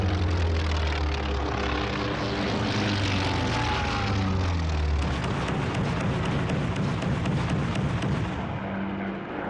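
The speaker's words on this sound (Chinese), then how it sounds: "首先起飞的是第8鱼雷轰炸机中队" A WWII torpedo bomber dives at a fleet, its propeller engine droning loud and steady. A rising whine and rapid crackling bursts of gunfire follow, with no talk.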